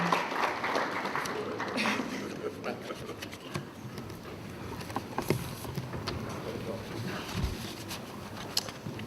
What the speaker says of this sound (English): Please a hand of applause for